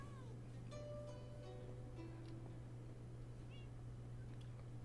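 Minecraft cats spawned in a village give a few faint, scattered meows over a constant low hum, soft and somewhat distant with no speech.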